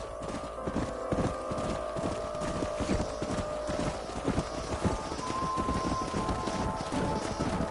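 Steady clip-clop of horse hooves in the video game Red Dead Redemption, a brisk rhythmic trot of several hooves close by, continuing throughout over a low background rumble.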